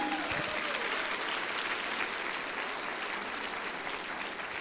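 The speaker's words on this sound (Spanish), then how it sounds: "¿Alguien le da un aplauso fuerte a Jesús?" Loud, sustained applause from a large crowd, a dense roar of clapping that stays strong from start to finish.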